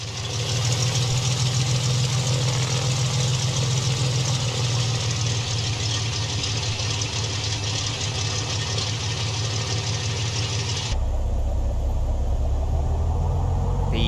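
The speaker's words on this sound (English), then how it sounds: "Quite a sort of beefy 6-cylinder noise." The six-cylinder engine of a Carenado Cessna T182T in FS2020 idles with a steady, beefy low rumble, loud and constant, its tone shifting abruptly near the end as the listening position changes.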